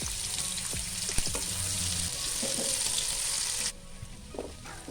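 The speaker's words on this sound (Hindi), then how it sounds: "प्याज को हमने सिर्फ इतना फ्राई करना है कि वो थोड़ी नरम हो जाए" Four medium chopped onions dropped into hot oil for masala bhindi, a loud, dense hiss of frying with a few clinks and stirring knocks, then the sizzle settling noticeably quieter near the end.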